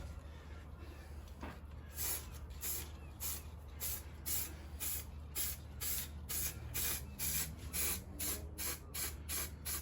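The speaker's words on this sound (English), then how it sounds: "we're just dusting the paint on" A spray gun dusts a first coat of paint onto a Jeep Patriot, working around the top and underneath, in a close series of short, regular hissing bursts over a steady low compressor-like hum.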